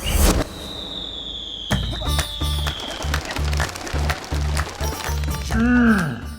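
Firecrackers and rocket fireworks go off in a quick rhythmic series of pops and bangs, with a whistling rocket streak early on and a swooping squeal near the end.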